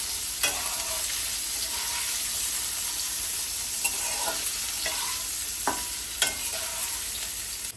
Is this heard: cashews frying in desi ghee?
yes